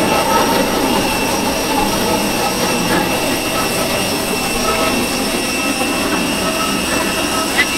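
Loud, steady roar of a jet engine from inside an aircraft on a trip to Langkawi, a constant whining drone with no change in intensity.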